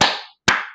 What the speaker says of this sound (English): Let's give Elsie 2 claps.